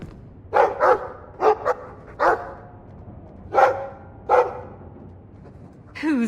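Dog barking in the Dragon Age 2 video game, a series of short, clear barks in irregular pairs and singles, moderately close, with a brief voice near the end.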